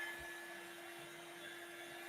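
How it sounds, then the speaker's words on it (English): Hair dryer blowing over freshly painted one-stroke artwork to dry it, a steady faint whirring hum with a thin high whine running throughout, heard close and alone. "you can use a hair dryer."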